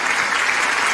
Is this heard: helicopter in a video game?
no